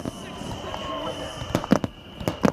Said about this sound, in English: The fireworks are on behind me, so you might not be hearing me too well.